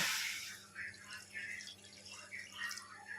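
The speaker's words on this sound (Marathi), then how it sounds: "तर याच्यामध्ये मी एक ग्लास पाणी ॲड केलं आहे" A glass of water goes into a pan of semolina for a rava kesari breakfast, giving soft splashing and trickling in a few uneven bursts, fairly quiet and close, with no talking.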